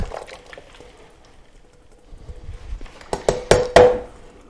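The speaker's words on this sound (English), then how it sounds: "We're going to go ahead and pour it over our lamb." Olive oil and basil marinade is poured over a boneless leg of lamb in a kitchen, quiet at first, then a few close, louder splashes and drips near the end.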